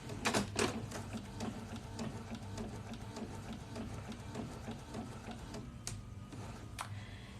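A large-format sublimation printer runs nearby with a busy mechanical whir and rapid ticking of the print head, punctuated by a few sharper clicks, steady and moderately loud throughout.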